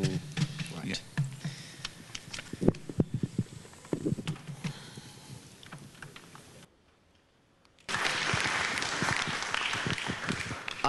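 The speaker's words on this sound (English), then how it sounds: "I had no idea you people were that easy to get applause from." At a Wikimania 2011 conference talk, scattered hand claps and clicks come first, then a brief hush, then a fuller burst of audience applause.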